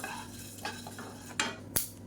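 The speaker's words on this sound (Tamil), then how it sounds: "இப்போ பாருங்கள் கொள்ளு நல்லா வெடிக்கிது." Horse gram dry-roasts in a pan, giving off a few sharp, scattered pops and light stirring scrapes over a quiet background.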